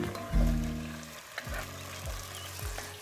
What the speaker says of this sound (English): First, we're going to add the diced tomatoes.